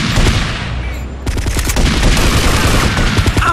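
Rapid bursts of gunfire crackle loudly in GTA Vice City Stories on the PSP, starting with a sharp jump in volume and continuing as dense, repeated shots.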